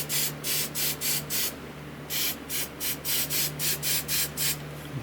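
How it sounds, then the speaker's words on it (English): Hairspray hisses from an aerosol can onto a miniature model tree in a series of about a dozen short, even bursts with brief gaps, close and steady, over a faint low hum. "Good solid coating of hairspray"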